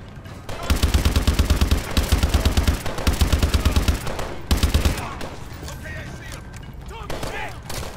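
Rapid automatic gunfire rattles in sustained bursts from a weapon in the Call of Duty Advanced Warfare video game, loud and close, then trails off into quieter game effects and ambience.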